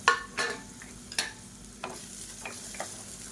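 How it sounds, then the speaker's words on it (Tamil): Sliced large onions are stirred in a hot pan for mint chutney, with several scraping strokes of a utensil over a soft, steady sizzle of frying oil. "ஒரு கை அளவுக்கு பெரிய வெங்காயம் நீளமாக நறுக்குனதை சேர்த்துக்கலாம்."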